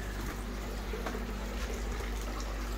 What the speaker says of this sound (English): still bubbling away nicely